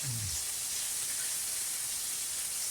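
Fatty bacon frying in a pan, giving a steady loud hiss and sizzle that fills the whole clip, close up with no talk.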